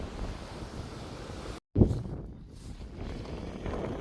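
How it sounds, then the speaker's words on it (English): Wind buffets the microphone on a wet, exposed hillside trail, a continuous low rumbling roar with a brief dropout and a bump midway, no voices heard. "It's still a bit windy and wet"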